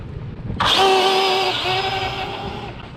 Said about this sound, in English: Okay, full throttle. Let's see how fast we get from 0 to 60.